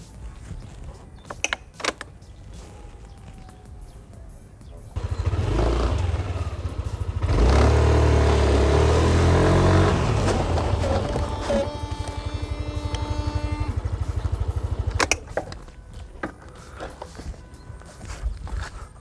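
A Yamaha Aerox 155 ABS scooter fitted with a TDR black carbon brake hose rides up close, its engine rising loud and steady, then easing off as it brakes hard, with quieter outdoor surroundings before and after.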